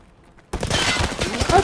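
A grenade blast in the shooter game Escape from Tarkov erupts suddenly after a brief quiet, a loud broadband burst with rumbling, crackling debris that sustains to the end.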